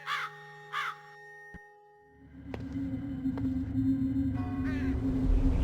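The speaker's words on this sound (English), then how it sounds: "Large black crows." Two harsh caws from large black crows ring out in quick succession near the start of The Lost Crown, a ghost-hunting adventure game set by an old overgrown graveyard, then give way to a low, rumbling ambient drone.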